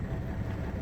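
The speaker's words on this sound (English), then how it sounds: "Sorry about the noise. This guy's got his truck running." Another man's truck idles nearby at a stockyard, giving a steady low diesel-like rumble with a faint pulsing throb through the short stretch, with no talk over it.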